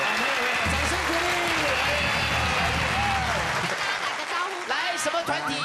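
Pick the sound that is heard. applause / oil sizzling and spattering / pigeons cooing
applause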